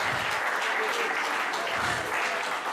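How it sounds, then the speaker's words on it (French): A church congregation claps during a bilingual sermon, a thick, continuous wash of applause that holds steady for nearly three seconds, fairly loud and full. "Applaudissez et louez votre aide."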